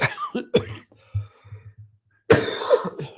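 A few sharp coughs, close and loud, with a quiet pause of low throat sounds between them.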